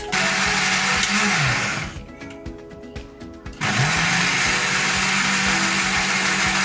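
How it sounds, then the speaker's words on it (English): A blender blending garlic, ginger and water whirs loudly, cuts out briefly to a lower rattling hum, then surges back up to full roaring speed and keeps running. "I'm going to add a 1/4 cup of water, then blend."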